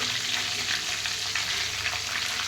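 Chillies and curry leaves fry in hot oil with a loud, dense, continuous sizzle that holds steady from start to finish, with no voices.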